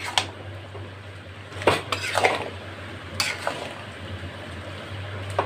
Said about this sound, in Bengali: এভাবে গুড়টা ভালো করে আমের সাথে নাড়তে হবে।